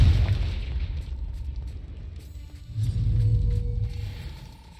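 Confringo fire spell explosions in the Hogwarts Legacy video game: a rumbling, booming blast with low roar that swells again midway, set against tonal background music with no talk.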